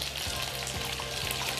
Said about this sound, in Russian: Пока наша картошечка жарится,